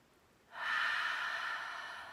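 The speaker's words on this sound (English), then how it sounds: "Take a nice deep breath. Exhale through the mouth." One deep, audible breath is drawn and then pushed out through the mouth in a long, close airy exhale that fades slowly.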